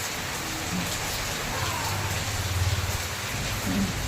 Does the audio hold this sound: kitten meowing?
no